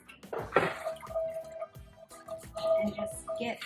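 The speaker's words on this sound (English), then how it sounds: "I've got a little bit of water. I'm going to drop that in there." A little water poured into a pan of beef chuck roast drippings for gravy, a brief splash followed by soft trickling and dripping under a nearby talking voice.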